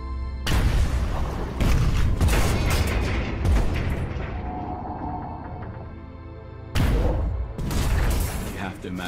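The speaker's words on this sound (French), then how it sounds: "Le son des grenades qui se réverbèrent dans l'eau, le choc de l'impact sur la coque qui tremble." Depth charges bursting underwater near a World War II submarine: heavy, booming blasts with rumbling, metallic reverberation, loud, with a first burst followed by a long fading rumble and a second strong burst later.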